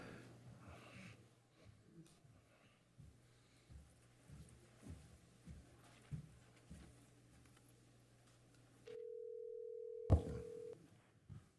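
A telephone line tone on a caller connection during a school board meeting: a steady, flat electronic tone sounds for about a second and a half after faint breathy background noise and a muffled click.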